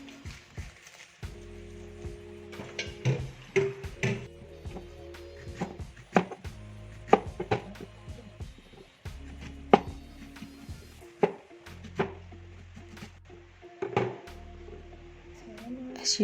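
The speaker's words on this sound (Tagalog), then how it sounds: "Also the onion, cut into circle." A knife chops an onion into rings on a cutting board, irregular close knocks and thunks in short bursts against a quiet kitchen background, with occasional faint tonal hum between strokes.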